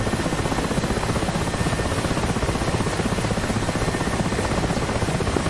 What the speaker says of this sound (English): Mi-8 landed, North Tinian FARP, and exiting troops